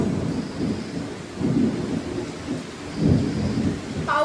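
Thunder rumbles in waves during a stormy May night with light rain, deep swelling rolls rising and fading under a steady wash of noise, with no one talking.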